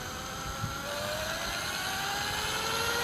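A spinning wheel on a shaft whirs steadily as it is spun up toward a few thousand RPM, a sustained rising hum with a faint climbing whine that stays continuous throughout.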